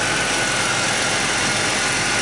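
A Ford Taurus 3.0L OHV engine idles smoothly, a steady even hum that holds constant and close throughout.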